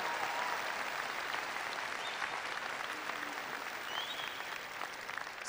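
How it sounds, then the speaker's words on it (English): Graduation audience applauding students after their names are read at a high school ceremony. Continuous, dense crowd clapping stays steady for the whole stretch, heard from a distance and fairly quiet. "Let's give them a round of applause."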